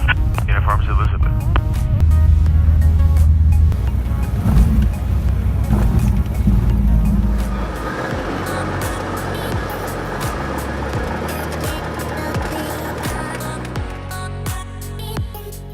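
Cessna 172 light aircraft touching down and rolling out on runway 32, a loud steady engine and wind roar inside the cabin that eases partway through into a lower rumble with rattling.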